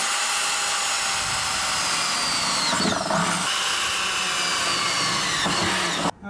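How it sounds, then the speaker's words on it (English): A power drill whines loudly and steadily while drilling holes in a Ford F-150 truck frame, its pitch dipping briefly under load a couple of times before it cuts off at the end. "These holes that I'm drilling are slightly larger than the bolt"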